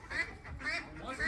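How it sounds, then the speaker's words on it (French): A duck on a farm gives three loud, nasal quacks at an even pace, close by, over a faint background. "Oh, il y a un canard!"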